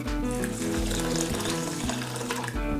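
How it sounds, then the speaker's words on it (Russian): Warm water running and splashing over millet being rinsed in the kitchen, a continuous loud gushing pour with no talk. "сейчас мы промоем пшено немножко теплой водой"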